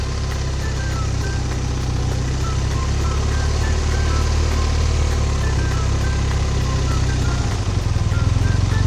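A motorcycle idles and creeps around in slow circles on a half-engaged clutch with a slightly opened throttle, its engine a steady, loud, continuous drone with a small rise near the end.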